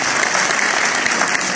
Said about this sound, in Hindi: बहुत सारी तालियां शहजादी के लिए।